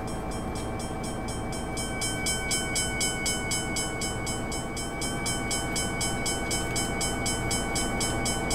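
A long freight train of about thirty wagons rolls past in the video game Train Simulator, set in the USA, with steady continuous rail clatter and a sustained horn blast over it, loud and close throughout.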